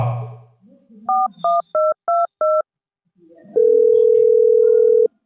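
Five short electronic dialing beeps in quick succession, then a pause and one long steady tone, loud and close with no talking.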